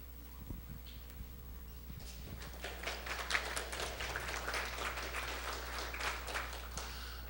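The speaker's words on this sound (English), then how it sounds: "I'm going to assume that applause was for me." A small audience claps in a room, scattered at first and then thickening into moderate applause that stays fairly faint over a steady low hum.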